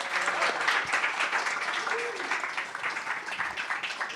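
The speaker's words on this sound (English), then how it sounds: "Let's give another round of applause to our artists." An audience claps for the performing artists at a climate awareness and activism festival, a steady wash of applause lasting a few seconds with a voice or two faintly mixed in.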